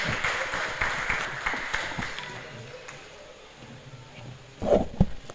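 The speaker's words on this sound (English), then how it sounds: "Please, a round of applause again" An audience applauds after a lecture at an annual general meeting, moderate clapping that thins out over a few seconds, followed by a brief burst of nearby noise.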